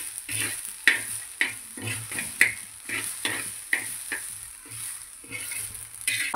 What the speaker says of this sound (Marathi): तुरीचे दाणे आपल्याला चांगले भाजून घ्यायचे आहेत।